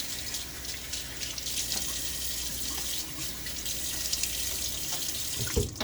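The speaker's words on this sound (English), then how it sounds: "Now a little water on my face." Tap water runs steadily into a bathroom sink during a wet shave with a Gillette Aristocrat safety razor, a continuous close splashing hiss with no talking, ending in a brief knock.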